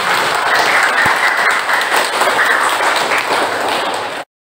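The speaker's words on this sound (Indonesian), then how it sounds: "Tepuk tangan dulu untuk kelas 7." Grade 7 schoolchildren applaud in a classroom, a dense, steady wash of clapping that runs evenly for about four seconds before cutting off abruptly.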